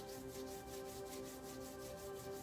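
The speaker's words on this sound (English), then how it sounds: "rubbing our hands together to harvest our chi" Palms rubbing briskly together during a qigong practice, a soft, steady back-and-forth friction in a quick even rhythm, faint and close, with no talking.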